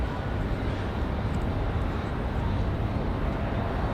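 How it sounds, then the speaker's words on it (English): United Boeing 737 MAX 8 jet taking off at Raleigh-Durham airport, a loud, steady broadband engine roar filling the scene without letup. "Got a United up next. That's a 737."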